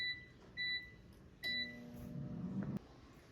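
An air fryer cooking Trader Joe's panzerotti pizza bites gives three short electronic beeps, followed by a low fan whir that runs for a couple of seconds and then cuts off. The sound is quiet and close.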